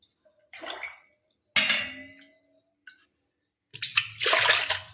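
Water is poured by the glassful onto soaked sago pearls (sabudana) in a kitchen: several separate splashy pours with short silent gaps between them, the last one longer and fuller.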